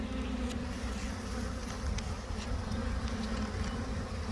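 A small honey bee swarm hums as a dense, continuous buzz of many insects close by, steady and fairly quiet, with faint bumps and handling noises scattered through.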